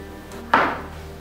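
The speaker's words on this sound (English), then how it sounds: "First, we need to slice it in half." A knife cuts down through a boiled sweet potato on a chopping board, giving one crisp, close thunk midway through a quiet kitchen moment.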